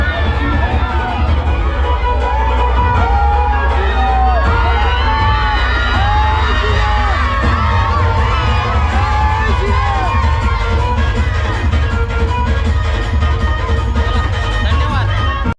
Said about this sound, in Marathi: इथे बघा फुल जल्लोष आहे कुठल्याच पार्टीचा कमी जल्लोष नाही सगळीकडे सेम